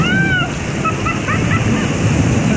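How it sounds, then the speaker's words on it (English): A resort pool waterfall pours and splashes down onto a person in a steady, loud rush of water, with voices and faint chirpy sounds mixed in. "is headed into a waterfall here"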